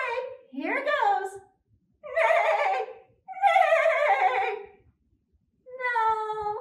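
In a family puppet show, a voice imitates a horse's whinny in four separate wavering, high-pitched bursts with brief silences between them.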